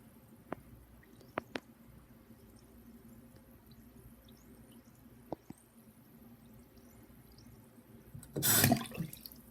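Hands splash and squish in water near the end after a quiet stretch broken by a few faint clicks and drips, with the splashing rising into a short, loud, close burst.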